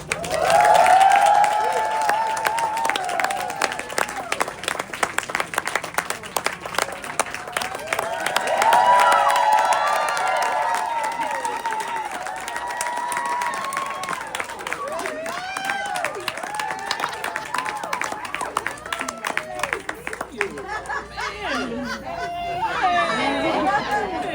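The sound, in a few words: audience applause welcoming Edwina Findley Dickerson and Viola Davis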